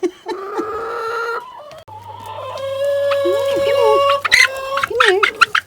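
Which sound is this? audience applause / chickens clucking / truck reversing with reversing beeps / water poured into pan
chickens clucking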